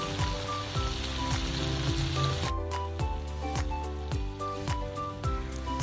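Hot charcoal sizzles steadily in a bowl of ghee and oil, a dense continuous crackle and hiss close up, with a tonal background hum and repeated low thumps, no talking.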